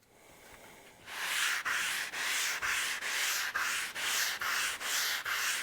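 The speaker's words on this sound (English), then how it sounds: "What I'm going to use today is just a basic sanding sponge. It's probably about a 600 grit." A 600-grit sanding sponge rubs by hand along a wooden live-edge bar top in regular back-and-forth strokes, about two per second, a close, soft, raspy swish that starts after a second of quiet.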